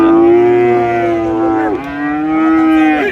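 A Friesian cow at a cattle market gives two loud, close, drawn-out moos, one after the other, with no talk over them.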